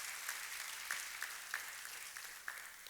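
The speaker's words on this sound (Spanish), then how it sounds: "Les enviamos un fuerte aplauso muy cariñoso de parte de la iglesia" Applause from a church congregation, a steady wash of many hands clapping with a few sharper claps standing out, moderately loud and continuous throughout with no talking.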